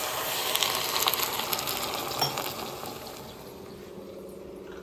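Water is poured into a hot pan before pressure cooking, setting off a loud hissing sizzle that gradually fades over a few seconds.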